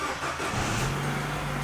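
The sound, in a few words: Peugeot 308 engine starting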